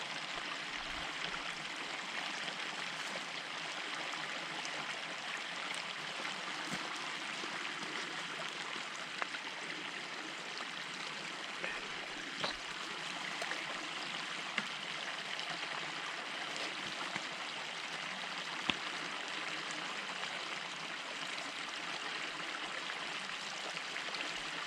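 Steady rushing of a flowing mountain stream in Shenandoah's Ramsey's Draft Wilderness, broad and continuous, with faint occasional splashes and no voices.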